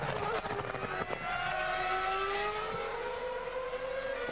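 A BMW Formula 1 car's engine fails during a Grand Prix, a loud high-pitched racing engine note that wavers and slowly changes pitch after a couple of sharp bangs, with crowd or commentary noise underneath.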